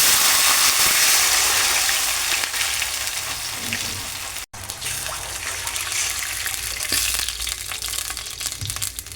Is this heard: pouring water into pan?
yes